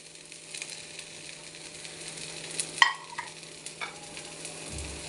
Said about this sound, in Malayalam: ഇനി ഇത് ഇളക്കട്ടെ